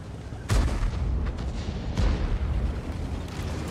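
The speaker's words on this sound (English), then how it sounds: "Oops, there's the artillery." Two heavy artillery blasts boom in a tank battle game, the first about half a second in and the second near two seconds, each followed by a rumbling, reverberant tail.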